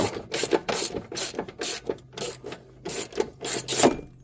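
Sway bar mounting block bolts being tightened on a Can-Am Maverick X3 during a rear bushing install, giving a steady series of rhythmic ratcheting clicks, close and moderately loud, with no talking.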